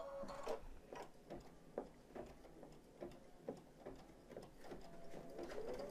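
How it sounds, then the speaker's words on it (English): Embroidery machine stitching fleece for an in-the-hoop dog softie, a steady run of quick mechanical needle taps with rhythmic clicks, close and moderately quiet, with no talking. "now it's just going to stitch this down"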